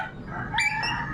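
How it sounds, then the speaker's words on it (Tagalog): Dogs in a residential compound let out a couple of short yips and barks, close but not very loud, over low background noise. "yung mga aso"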